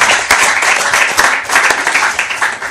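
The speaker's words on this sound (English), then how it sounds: "A loud round of applause" Audience members at a school quiz competition applaud both schools, a loud, close burst of brisk clapping from a crowd lasting a few seconds.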